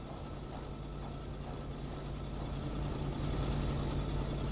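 A truck engine idles in a video game, a low steady rumble with a faint hum, continuous and fairly quiet, with no voices over it.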